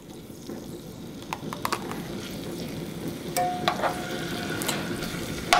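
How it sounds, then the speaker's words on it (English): Cubed pork tenderloin, cut into roughly one-inch pieces, sears in a hot pan with a continuous crackling sizzle that builds slightly louder, with a few spatula scrapes and taps over it. "Once our pan is nice and hot, we're going to add our pork tenderloin."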